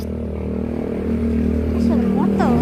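A motorcycle engine drones close by in a steady, even hum that rises slightly near the end. Voices talk over it.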